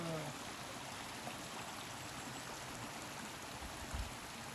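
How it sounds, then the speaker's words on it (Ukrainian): Iron-rich spring water trickles steadily out of a pipe onto rust-stained ground, a soft continuous flowing hiss with no other sounds over it. "з труби витікає ця водичка"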